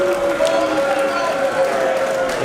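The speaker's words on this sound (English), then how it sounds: "This crowd came alive." Wrestling crowd at a Rey Mysterio versus Ricochet match erupting in sustained loud cheering and roaring, with a commentator's voice heard over it.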